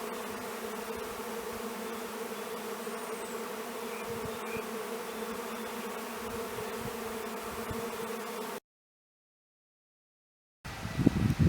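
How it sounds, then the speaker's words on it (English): A swarm of honey bees hums in a constant, layered buzz close by near a tupelo tree, steady throughout, then cuts off briefly before a burst of rougher noise. "Bees, I don't know if you can hear them."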